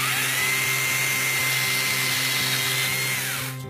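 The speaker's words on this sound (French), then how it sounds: "cette tronçonneuse est toute légère, il suffit vraiment de la laisser faire" Small lightweight chainsaw cutting, a loud steady high-pitched motor whine with cutting noise running continuously, then easing slightly at the end.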